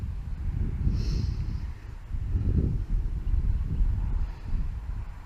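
Wind buffets a microphone outdoors at a quadcopter test, low rumbling gusts that swell and fade in uneven surges, with no talk.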